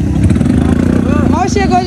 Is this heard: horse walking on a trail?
no